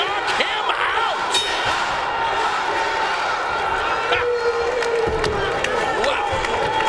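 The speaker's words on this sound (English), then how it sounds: "And the crowd screaming, knock him out!" A boxing arena crowd roars continuously during a heavyweight bout, with loud shouting and cheering swelling and dipping, with sharp impacts cutting through the din.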